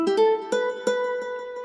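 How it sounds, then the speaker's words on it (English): A whistly Zampler piano patch doubles electric guitar notes, giving a short, close passage of a few plucked tones with a thin, airy whistle ringing steadily on top. "This right here is another Zampler patch, and this is just doubling the guitar notes"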